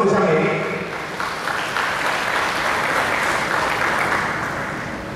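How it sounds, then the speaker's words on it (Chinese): A school audience at a wind band club concert claps steadily to welcome the principal. The applause starts loud and fades slightly while a voice talks over it. "我们是不是掌声欢迎我们余校长给我们做下面"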